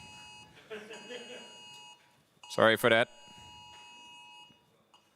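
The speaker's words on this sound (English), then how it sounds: "There will be other beeps." A short burst of loud electronic beeping cuts in midway during a panel discussion, with someone talking before and after it.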